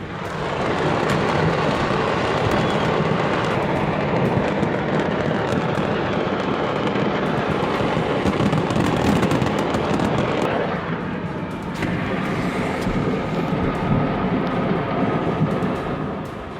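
Fireworks going off during a serious incident at the Tultepec fireworks market, a dense, continuous roar of loud blasts and crackling bursts that runs without a break and shifts in texture partway through.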